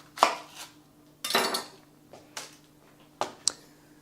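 A knife cuts through an onion for fajitas, giving a handful of sharp, close chops at irregular intervals with short pauses between them and no talking.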